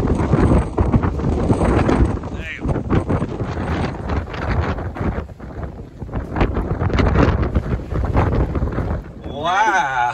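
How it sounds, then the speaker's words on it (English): Strong gusty wind at Bahía de Los Angeles, Baja California, roars and buffets the microphone in loud, continuous surges with brief lulls, and people speak near the end. "It's a little bit windy out today."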